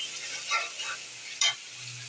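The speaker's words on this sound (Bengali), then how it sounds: "রান্না করতেছি শুটকি ভেজে" Dried fish (shutki) frying in a pan, a quiet, steady sizzle broken by two short scraping stirs, with no talking.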